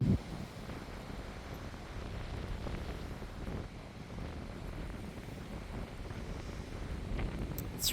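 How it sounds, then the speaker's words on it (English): Continuous gusty wind on the Appalachian Trail buffets the microphone with a low, rumbling roar that rises and falls, and no voices are heard. "It's really windy."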